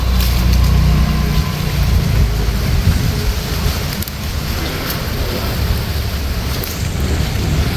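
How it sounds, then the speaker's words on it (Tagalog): Strong wind roaring and buffeting steadily, loud and close, with heavy low rumble throughout and no voices. "Lakas ng hangin."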